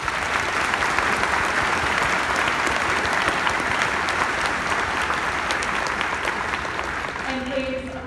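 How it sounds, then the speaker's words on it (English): Audience at a high school graduation ceremony applauding administration, teachers and faculty: sustained, dense clapping from a large crowd, steady throughout, with a faint voice surfacing near the end. "can I get a round of applause for the administration, the teachers, and all the faculty who have brought us to this point?"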